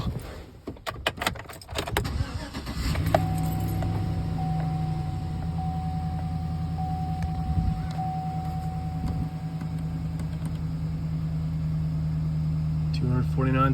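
A 2010 Chevrolet Silverado engine cranks briefly amid jangling keys, then settles into a steady, close, low idle hum that continues to the end.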